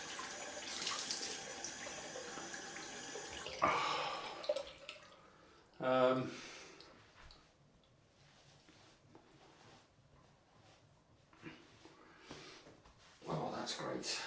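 Tap water running into a sink while a face is rinsed after a shave: intermittent splashing and trickling in short bursts, close and fairly quiet, with a few louder splashes and pauses between.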